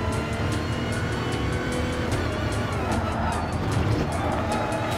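Hyundai N 2025 Vision GT race car at speed in Gran Turismo Sport practice at Circuit de la Sarthe, a loud continuous engine roar with tyre squeal and skidding, crowded with other cars, no talk.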